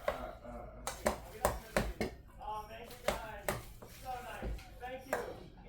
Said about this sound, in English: I just cut up some green tomatoes.